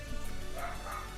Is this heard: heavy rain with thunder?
no